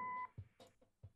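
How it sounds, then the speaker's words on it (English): A single steady electronic answering machine beep from the video game Kathy Rain sounds at the start, followed by a few soft thumps and faint low noises. "Leave a message after the beep."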